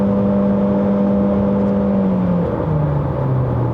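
A Chery Tiggo Cross 1.5 HEV hybrid SUV accelerating on a light throttle, a steady engine drone and whirring tone that holds then steps down in pitch, heard from inside the cabin without talk.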